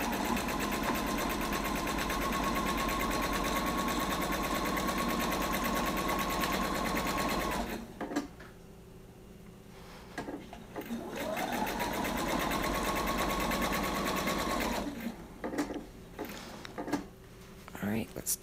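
A sewing machine runs steadily, stitching a quarter-inch seam on a Christmas pillow, with a long continuous run, a short pause, then a second stretch of stitching and a few brief stops near the end.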